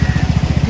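A motorcycle engine idles at a petrol pump in Beni Bazaar, chugging in a steady, rapid rhythmic putter close to the microphone.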